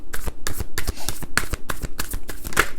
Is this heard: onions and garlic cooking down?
no